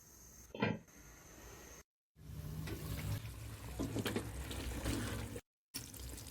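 A glass of water is poured into chicken curry in a pan, giving a steady, watery rush for several seconds with brief cuts, moderately quiet and without talk.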